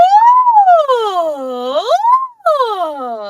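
A singer's voice imitates a siren as a vocal warm-up, sliding smoothly up and down in pitch in long sweeping glides, loud and close, with a short break before another rising-then-falling sweep.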